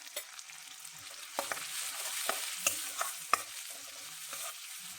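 Green chili paste fries in a pan, giving a soft, steady sizzle with a few scraping stirs and clicks of a utensil close by, and no talk.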